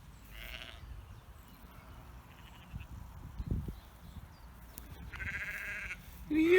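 Faint sheep bleat a few times at a distance over soft outdoor ambience on a farm, with a brief rustle near the end.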